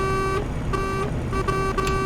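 A DAF XG/XG+ truck horn in a driving video game blares in several loud, bright blasts of uneven length, separated by short gaps over a constant engine rumble.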